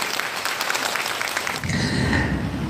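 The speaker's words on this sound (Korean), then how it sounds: "박수로 모셔보겠습니다" Seated elders applaud at a job-training session in a community centre, a brief spell of clapping that gives way midway to a lower, rumbling room sound with a faint tonal hum.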